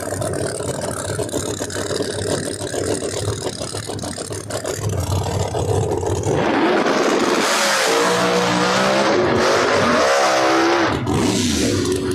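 Loud no-prep drag race cars accelerating down the strip at Epping, New Hampshire, one engine pedaled off and on before a second roaring launch; continuous heavy engine noise fills the whole stretch.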